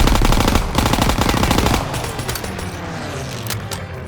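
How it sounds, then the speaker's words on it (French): Rapid automatic gunfire in the Call of Duty WWII video game, a loud close burst of fast regular shots that gives way after about two seconds to scattered, echoing distant shots, with no talk. "Tire de couverture à gauche!"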